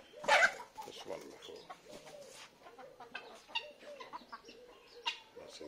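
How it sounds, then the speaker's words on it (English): Local bush hens clucking and murmuring close by on a youth agriculture farm, a burst of louder calls at the start followed by scattered soft clucks. "These are the bush hens, you know, locally."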